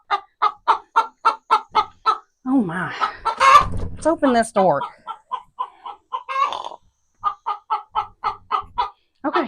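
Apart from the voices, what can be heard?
chickens clucking in coop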